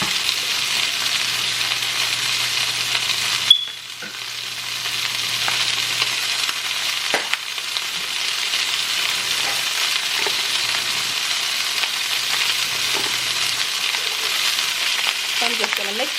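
Hibachi-style fried rice sizzles steadily on a hot surface with black pepper, seasoned salt and garlic powder, a continuous loud frying hiss with a brief scrape and dip early on, then more stirring clinks near the end.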